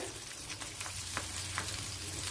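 Oil sizzles steadily in a pan while dried mackerel curry cooks, a dense continuous frying hiss close to the microphone, punctuated by a few soft stirring scrapes.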